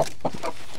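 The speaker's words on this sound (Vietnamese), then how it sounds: "Này toàn gà ta đấy nhá" Local chickens bought as young birds from a home farm cluck in a few short, close, rapid bursts, loud and clear with no talking over them.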